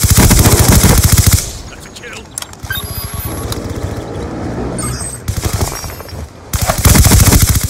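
An MP7 submachine gun in Black Ops 2 fires long, loud rapid-fire bursts, with a quieter stretch of scattered shots in between, while a player shouts excitedly over the shooting.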